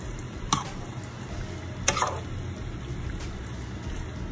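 Okra and tomato with sausage and shrimp stirred in a pan: two soft utensil clicks and scrapes, faint and close, over a steady low simmering sizzle.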